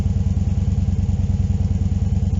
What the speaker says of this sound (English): How a motorbike should sound.